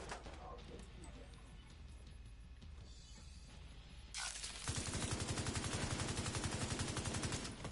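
Gunfire in the video game Division 2: steady battle noise, then a loud, rapid automatic burst of shots that runs on for several seconds, close and dense.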